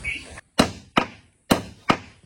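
Sharp wooden chops ring out as an older man hews timber while building a new wooden boat in a village, with four loud, evenly spaced blows separated by brief pauses.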